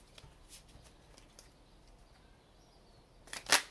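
Tarot cards being shuffled by hand, soft scattered riffling ticks building to a sharp, bright flurry of card snaps near the end, close and fairly quiet.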